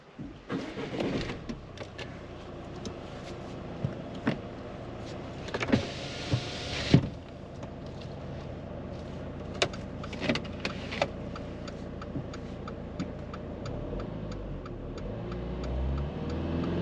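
A car starts and pulls away on a quiet road during a driving mock test, with soft engine hum, a few clicks and bumps from inside the cabin, and a faint rising engine note as it moves off.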